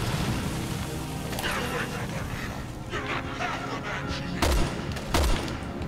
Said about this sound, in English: Let's just keep shooting Simmons.